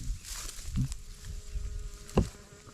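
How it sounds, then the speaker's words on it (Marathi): Bees buzz continuously near the hillside Pandavgad fort outside Wai, Satara, making a close, steady drone with a few louder passes and a soft outdoor background, no voices. "मधमाशी"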